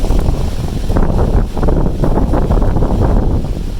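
Wind blows hard around a homemade wind generator outdoors, producing a loud, steady, rumbling roar with gusty swells across the whole moment.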